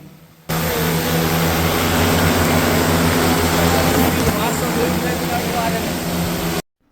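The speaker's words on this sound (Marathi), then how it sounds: "आपण पाहत ड्रोनद्वारे सोयाबीन कशी फवारली जात आहे" A loud agricultural spraying drone hums steadily over a soybean field, its rotors holding a strong droning whine for about six seconds before it cuts off abruptly.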